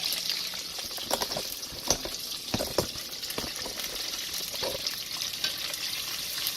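Chicken wings frying in a pot of hot oil make a dense, steady crackling sizzle with irregular pops and bubbling, close and continuous throughout.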